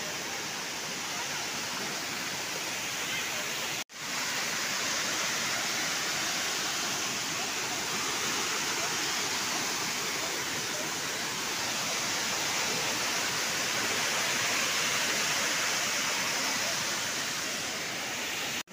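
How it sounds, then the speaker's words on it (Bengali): Waterfall at a tourist spot in Pokhara, Nepal, a continuous dense roar of falling, rushing water, steady and fairly loud throughout with a brief dropout. "দূর থেকে এই ঝর্ণার পানি এটার ভিতর দিয়ে আসছে"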